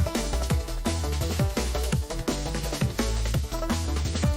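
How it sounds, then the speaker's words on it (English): Break beat drums drive an AI-generated Suno song, with punchy kicks and snares repeating in a busy syncopated pattern inside a loud, dense mix of music. "the drums is the break beat sound you're hearing."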